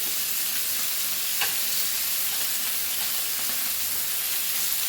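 Chicken wings fry on a tawa with a steady, dense sizzle, close and continuous, with a faint clink near the middle and no talk.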